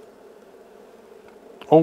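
A steady, close honey bee drone hums continuously around a beehive, then a louder burst of buzzing rises sharply at the end.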